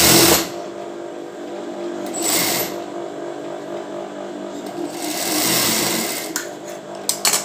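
A sewing machine stitches a bra cup seam in several close bursts of rapid whirring separated by quieter pauses, with a few small clicks near the end.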